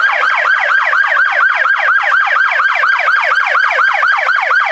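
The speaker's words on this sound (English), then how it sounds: "And now the cop has the sirens on," A police car siren wails nearby at a car meet in Miami, a steady, fast rising-and-falling yelp repeating evenly throughout and sounding alone.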